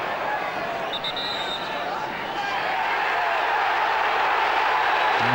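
Football stadium crowd at Liverpool v Newcastle United growing agitated, a steady loud roar of massed voices that swells slightly and holds throughout.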